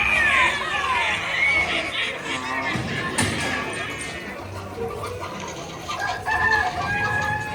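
Hens cluck and squawk in a busy flock on the Pirates of the Caribbean ride at Magic Kingdom, Walt Disney World. The noisy, continuous cackling is mixed with loud voices and crowd chatter.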